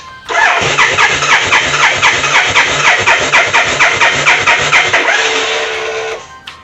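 A Victory V92C motorcycle engine cranking in rapid, regular pulses for several seconds, loud and close, then winding down without clearly catching.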